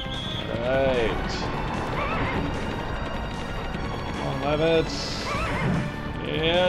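Several horse whinnies from The Legend of Dragoon, rising and falling calls repeated against galloping hooves and game music, with a crash-like hit near the end.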